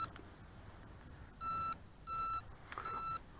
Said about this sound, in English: Turn on the remote.